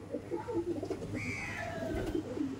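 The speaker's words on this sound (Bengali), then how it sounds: "পায়রা দেখতে পাচ্ছেন, এত সুন্দর পায়রা" A pigeon gives soft, low coos close by, mixed with a few brief higher bird calls, quiet and without talk.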